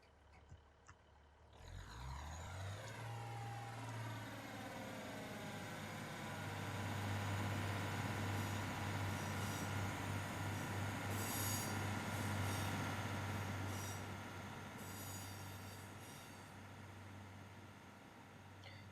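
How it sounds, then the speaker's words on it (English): A Great Western Railway Class 150 diesel train pulls out of Bath Spa station, its engine droning louder as it accelerates while the wheels squeal high-pitched, growing to a peak and then easing as it departs. "So there goes the 1211 Great Western Railway service to Great Malvern from Brighton."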